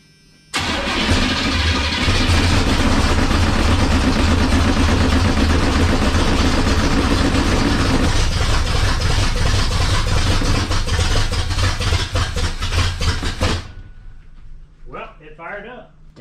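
A carbureted car engine cranks and fires up, then runs loud and choppy with an uneven, lumpy idle for about thirteen seconds before cutting off, leaving faint voices talking.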